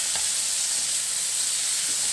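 Masala fish sizzling steadily in a pan with only a little oil just after being flipped, a continuous close hiss of frying with no talk.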